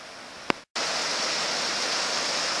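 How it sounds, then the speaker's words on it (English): A fast-running river on a mountain trail, swollen with high water, gives a broad, constant rushing roar, briefly cut off early on and then continuing unbroken. "Just wanted to show you the river in this spot."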